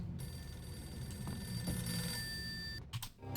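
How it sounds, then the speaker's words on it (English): An old-style telephone bell rings continuously in a house in the Max Payne video game, a steady metallic trill over a low ambient hum that cuts off near the end. "Answer this phone."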